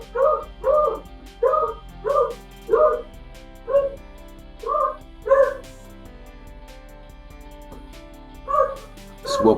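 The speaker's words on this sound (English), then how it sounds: "Do you hear my dog?" A house dog barks repeatedly indoors, about a dozen sharp yips in uneven bursts with short pauses between, loud and close while a live online math lesson runs in the background.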